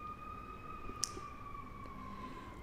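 A siren from a police car or ambulance wails faintly in the distance within a video game set in the Outer Banks, a steady two-tone whine over low background rumble with a single click.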